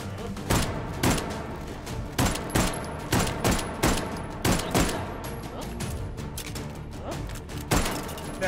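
Rapid gunfire from firearms in the VR shooter H3VR, sharp loud shots in repeated bursts with a steady, driving rhythm across the whole stretch.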